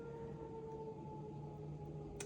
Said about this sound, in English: You guys hear those sirens?